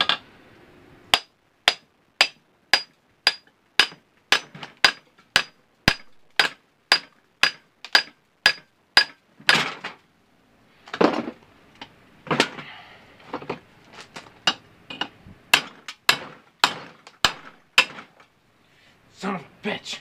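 Sharp metal hammer strikes knocking aluminum plates off an electric motor being scrapped, a rapid steady series of loud blows followed by more irregular, clustered hits with brief pauses, close to the microphone.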